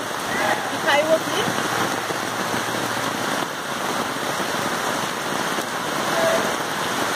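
Heavy tropical rain pours steadily in Formoso do Araguaia, Brazil, making a dense, continuous hiss, with faint voices in the background.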